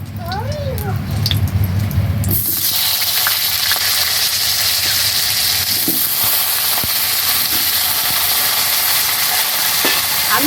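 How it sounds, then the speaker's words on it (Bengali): Potatoes dropped into hot oil already used for frying vegetables, breaking into a loud, steady sizzle that stays dense and continuous after a burst of speech at the start. "এবারে তেলের মধ্যে আলুগুলোকে দিয়ে দেবো"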